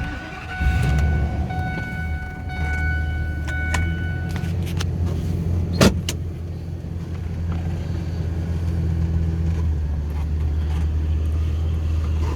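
A 2001 Ford F450 truck with a V10 engine and six-speed manual 4x4 starts up, then settles into a steady, loud, low idle rumble with scattered clicks and a brief sharp knock midway, all under wind buffeting.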